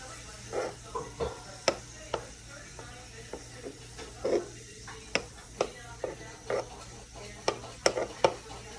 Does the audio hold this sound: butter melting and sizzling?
yes